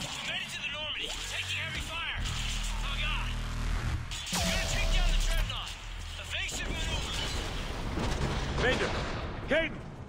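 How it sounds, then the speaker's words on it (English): Heavy gunfire in the video game Mass Effect 3, booming artillery-like blasts and rattling shots layered under urgent radio voices and a swelling battle soundtrack. "Taking heavy fire."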